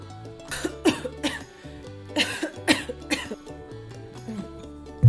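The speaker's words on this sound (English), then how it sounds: "I hate the sound of your coughing." Several sharp coughs come in uneven bursts over a steady musical background, fairly close and loud, with brief pauses between them.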